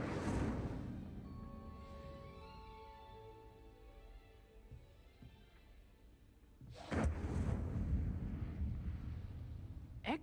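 Incendio fire spell cast in Hogwarts Legacy, a fiery whooshing roar at the start and another near the end, with quiet ringing tones in between.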